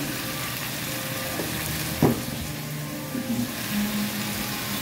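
Native chicken sautés in a pan for tinola, a steady moderate sizzle with a few stirring clinks and scrapes, heard alone without talk.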